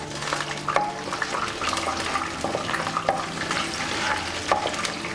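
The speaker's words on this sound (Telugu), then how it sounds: "తర్వాత శనగపప్పు, మినప్పప్పు కొద్దిగా ఫ్రై అవనిద్దాం" Chana dal and urad dal fry in hot oil, a steady close sizzle with occasional scraping stirs, no talking.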